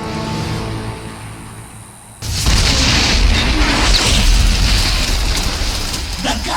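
A cannon blown apart in StarCraft 2: a sudden heavy explosion bursts in after a quieter stretch, then a loud, sustained roar of crackling debris and fire continues.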